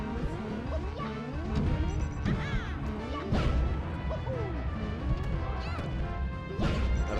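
Down smash attacks from Super Smash Bros. Melee crash and thwack repeatedly over busy game music and effects, with hits landing every second or so.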